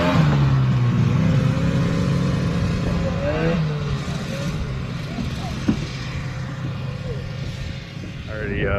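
A 1971 TNT 340 single-cylinder vintage snowmobile engine running steadily nearby, a droning buzz that rises and falls slightly throughout, with a voice talking over it at times.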